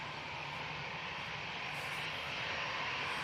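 Airliner landing at Manchester Airport, a steady broad roar of engines and rushing air, heard from a distance at a plane-spotting spot without talk.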